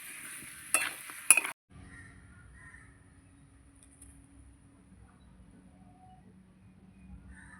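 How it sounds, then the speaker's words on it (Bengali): Spices for a young jackfruit curry are stirred in a pan, with a short burst of scraping and clattering followed by a faint, steady sizzle. "মশলা যত কষাবো তরকারির কালারও ভালো আসবে, খেতেও স্বাদ হবে।"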